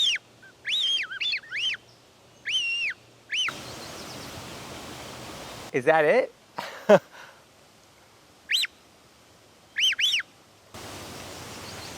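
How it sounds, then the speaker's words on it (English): A handmade wooden bird call, hand-blown, gives short warbling, pitch-bending chirps in bursts, with rustling handling noise between them and a brief voice. "here we have our little bird call, so I'm going to give it a test."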